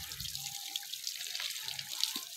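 Water splashes and drips as a buffalo is washed in a Punjab village, with intermittent close spatters and trickling over a wet background.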